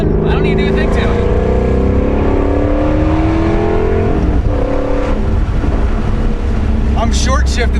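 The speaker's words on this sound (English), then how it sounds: "I can't believe that's the stock exhaust on this car." A C7 Corvette Grand Sport sports car on its stock exhaust, engine revving loud and close with rising and falling pitch as it pulls through gears, the roar continuous across the whole stretch.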